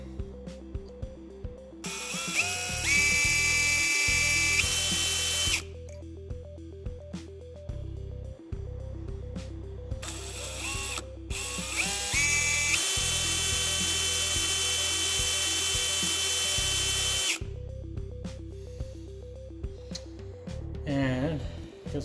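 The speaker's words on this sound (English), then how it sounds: "Let's see if I can drill this thing out." A small drill bores into a stuck carburetor float pin in two long high-pitched whining bursts, close and loud, separated by quieter pauses with handling noises and background music.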